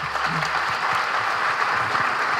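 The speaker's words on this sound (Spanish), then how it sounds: "fuerte el aplauso" Steady applause from an audience, dense and continuous throughout, with faint low murmurs underneath.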